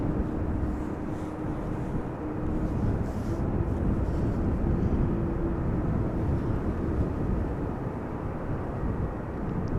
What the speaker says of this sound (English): Does sound a little like a GE90 spooling up